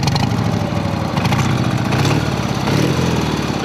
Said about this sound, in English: No smoke. Bike runs excellent.